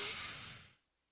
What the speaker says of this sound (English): Use the Vicks Sidex nasal spray, would you?